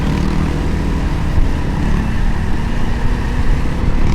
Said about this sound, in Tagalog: kasi mahangin, maingay sa kalsada